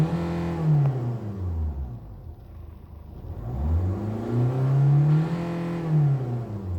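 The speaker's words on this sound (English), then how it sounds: "Listen to the engine sound." A diesel Hyundai Accent engine revs up twice, the pitch climbing and falling in smooth sweeps, loud and close with no talking.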